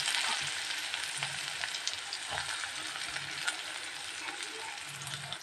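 Sliced onions hiss and sizzle steadily in hot oil in a wok, where fennel seeds have already been fried, while cooking a samosa filling. The frying is continuous and fairly close, with faint stirring clicks and no talking.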